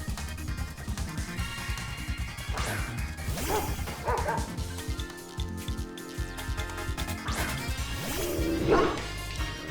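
Dog Pokémon in a Pokémon Scarlet battle let out cries, repeated yipping barks and whimpers over game music and crashing hit effects, loud and close.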